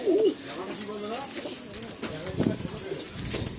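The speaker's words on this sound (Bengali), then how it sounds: "এই যে দেখো, এই যে পায়রাগুলো সব বসে আছে" Pigeons kept as a hobby, resting together at a loft gathering, make soft cooing calls close by, low murmuring coos repeating on and off with light background noise.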